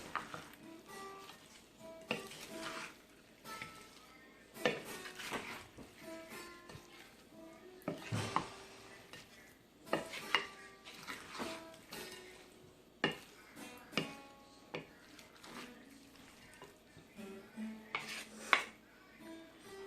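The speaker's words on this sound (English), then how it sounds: "I'm just stirring up the rest of the little batch of sauce." A spoon scrapes and clinks through a small batch of bang bang shrimp sauce in a kitchen, giving irregular, close taps and stirs alone.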